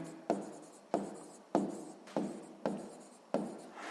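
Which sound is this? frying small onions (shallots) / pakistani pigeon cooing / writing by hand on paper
writing by hand on paper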